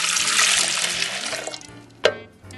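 Water is poured from a tap into a bowl of bread dough ingredients for hamburger buns, a steady close splashing rush that fades out before a short sharp clunk, with no talk.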